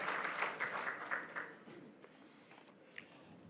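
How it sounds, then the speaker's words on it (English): Audience applause at the 2021 NSW Community Sports Awards ceremony, a round of clapping that is strongest for the first second and a half, then thins out and fades to scattered claps. "one more round of applause, please"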